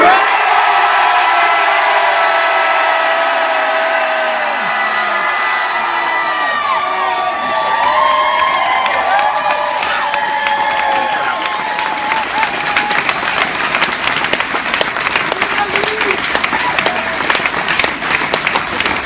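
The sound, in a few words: memorial crowd yelling Chris then applauding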